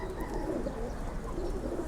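Young pigeon chicks in a loft give soft, low cooing and murmuring calls, close by and continuous over a dull background rumble.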